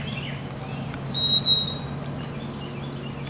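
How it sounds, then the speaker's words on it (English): Wild birds outdoors give thin, high chirps and whistled calls, a few brief bursts at moderate distance over a low background hum, with no talking. "Can you see the bird?"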